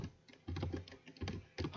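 Typing on a German computer keyboard in short bursts of close keystrokes separated by brief pauses.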